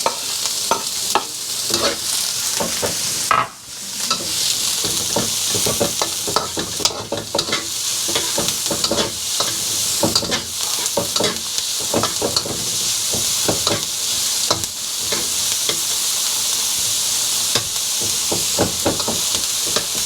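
Salted fish and onions stir-fried for restaurant-style fried rice, loud continuous sizzling and frying hiss with steady scraping, clattering stirs of a utensil against the pan throughout, no voices.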